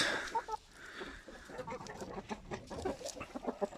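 Chicks and poultry, including turkeys and hens, cluck and chirp in a farmyard, a busy stream of overlapping calls close by, with a faint voice now and then.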